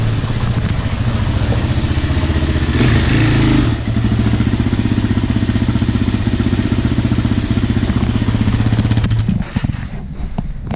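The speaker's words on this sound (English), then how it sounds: "just switched out the bearing Reed's wheeler. Kind of dark, he's just testing it out now" A four-wheeler ATV engine with a freshly replaced wheel bearing runs at a steady close idle, loud and continuous with a rough mechanical clatter, then briefly changes pitch near the end.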